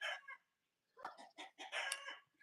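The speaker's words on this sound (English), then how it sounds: "Okay, that is actually a rooster, and he's not actually crowing." A rooster in a backyard chicken coop gives loud, close, raspy calls rather than a crow: one burst, a short pause, then a quick run of choppy squawks.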